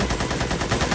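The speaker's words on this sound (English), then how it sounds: "I still have people shooting at me" Rapid, continuous automatic gunfire from the video game Magicka, loud and dense, with steady repeating shots throughout a brief burst.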